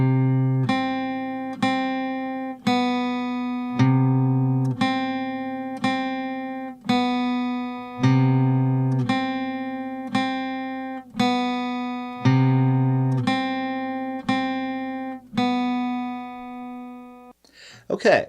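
An acoustic guitar picks single notes from a song one beat apart, about a dozen evenly spaced ringing plucks, each decaying before the next, played alone.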